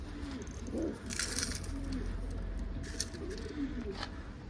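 Wild pigeons coo softly in short, repeated low calls while being fed, heard at moderate distance over a steady background hum.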